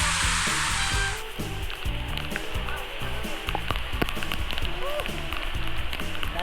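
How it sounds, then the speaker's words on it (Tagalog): Heavy rain pours steadily, a dense hiss of drops striking surfaces throughout, with a person talking faintly and broken thumps running underneath. "ang lakas ng ulan"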